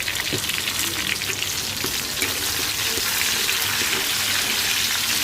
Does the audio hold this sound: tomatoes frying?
yes